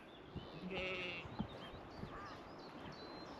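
A sheep bleats once, faint and somewhat distant, over outdoor farm background noise with a few other soft animal calls.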